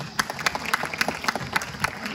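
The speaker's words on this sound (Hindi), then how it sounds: "एक बार तालियों के साथ सभी स्वागत और अभिनंदन।" Rhythmic group clapping at a school Gandhi and Shastri Jayanti ceremony as the principal is welcomed, steady, evenly spaced unison claps, moderately distant and fairly soft.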